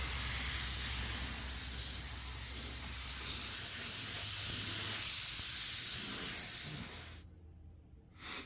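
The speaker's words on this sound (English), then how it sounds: "Now it's time for the clear coat." A spray gun hisses steadily up close as clear coat goes onto a Genesis GV80 bumper, a continuous airy blast lasting about seven seconds before cutting off sharply.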